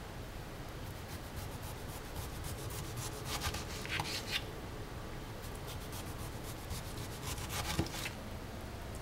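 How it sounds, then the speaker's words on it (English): A kitchen knife slices a tomato very thin, making quiet repeated scraping and tapping strokes on a cutting board, with faint soft cuts in a loose rhythm and no voices. "right now I'm just slicing up some tomato very thin."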